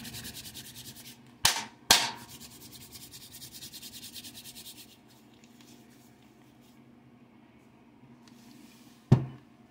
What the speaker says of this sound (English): I'm rubbing friendship oil all over my hands.